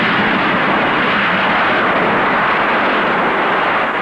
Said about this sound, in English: He opens the throttle to full power, and the aircraft lifts off.